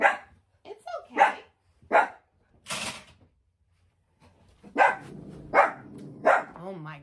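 A dog indoors barks in several separate loud bursts at someone walking past the house, with someone speaking between the barks.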